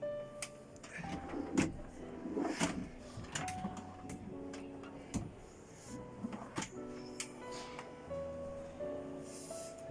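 Large kitchen drawers on an Elios Van 63 LB Sky-Line camper van, 2021, opened and shut at a Paris-Le Bourget show, giving repeated sliding rumbles and sharp clunks over a busy hall background.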